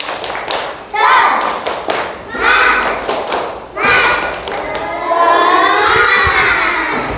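Children perform the tepuk semangat rhythmic clapping chant in an Indonesian classroom, with sharp bursts of group claps and shouted chanting voices in rhythmic phrases, loud and close, continuing through the whole stretch.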